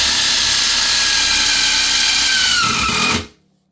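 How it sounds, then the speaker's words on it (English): Power drill driving a self-tapping screw while installing workbench casters onto a pottery wheel: one loud, close, steady whine that holds for about three seconds, then stops abruptly. "So a self-tapping screw will work also."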